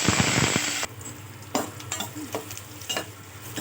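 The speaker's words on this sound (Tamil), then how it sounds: "கடுகு போட்டுக்கலாம். கொஞ்சமாக சோம்பு, பிரியாணி இலை, வெங்காயம் போட்டுக்கலாம்." Mustard seeds, fennel, bay leaf and onion fry in hot oil for a black-eyed pea kuzhambu: a loud, dense sizzle for the first moment, then a softer crackle broken by a few sharp stirring scrapes close by.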